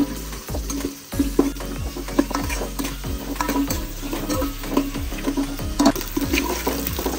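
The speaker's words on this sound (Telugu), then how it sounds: "ఉల్లిగడ్డలు మంచిగా బ్రౌన్ కలర్లో ఫ్రై అయ్యే వరకు అయితే కలుపుతూ ఉండండి." Onions sizzle in a hot pan while a spoon scrapes and stirs them in a repeated rhythm of close, distinct strokes over steady frying hiss.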